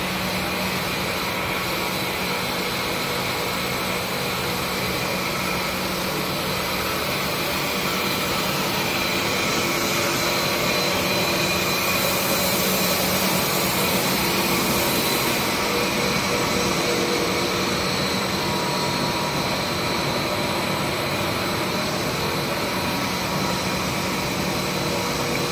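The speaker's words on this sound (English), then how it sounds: "This is our previous extrusion machines at customer's factories." Cable insulation and sheath extrusion machines run in a customer's factory, producing a steady, loud mechanical drone with constant hum and whir that continues unchanged throughout.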